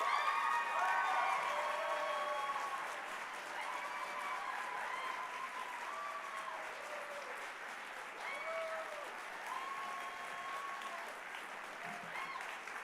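Sustained audience applause at a scholarship foundation banquet honoring a fine arts award recipient, steady clapping with some cheering, while a melodic tone line sounds over it.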